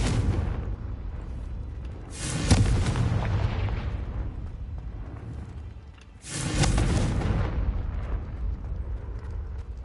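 Confringo fire spell explosions in the Hogwarts Legacy video game, two loud sharp blasts a few seconds apart, each leaving a long fading roar over a low rumbling backdrop, with no talk.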